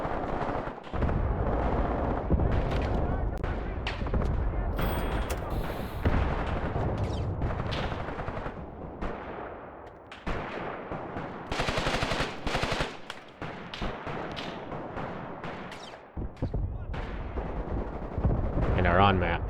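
Gunfire and 82mm mortar fire from the Graviteam: Pivot Point war game, with loud, dense bursts of rattling automatic fire and heavy booming impacts in irregular clusters, separated by brief lulls.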